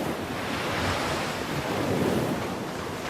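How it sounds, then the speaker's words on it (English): Vast ocean with gigantic thundering waves, a dense, steady roar of surf and wind that stays loud and continuous throughout, with no voices. "They saw the vast thundering ocean. There was just lots of water and gigantic waves everywhere."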